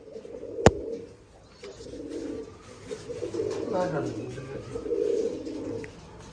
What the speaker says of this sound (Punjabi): ਆ ਕਬੂਤਰ